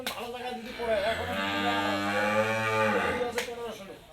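A bull cow gives one long, loud, close moo that swells and fades over a few seconds, with faint outdoor background noise around it.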